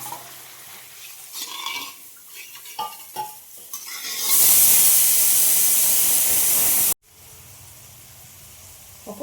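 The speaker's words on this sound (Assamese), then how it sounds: "এতিয়া ইয়াতে অকণমান পানী দিওঁ।" Water poured into a hot pan of frying fish for a curd-based fish curry sets off a sudden loud, broad hissing sizzle that holds steady for a few seconds, then cuts out abruptly and drops back to quieter frying and stirring.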